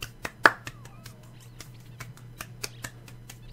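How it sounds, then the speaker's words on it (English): Hand clapping for a round of applause in The Sims 3: light, scattered claps and snaps, fairly faint, over a low steady background hum. "Hope you like my round of applause."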